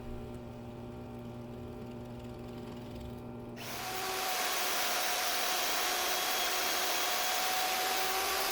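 A power drill working through knife handle material, first a quiet tonal motor whir, then a loud broadband grinding roar as the bit cuts in and holds steady.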